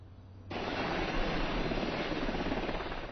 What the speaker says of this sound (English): The helicopters came and left campus.